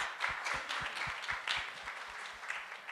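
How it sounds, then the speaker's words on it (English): Awards ceremony audience giving applause, dense steady clapping from a crowd with rhythmic low thumps running beneath it, moderately distant. "A big round of applause, please."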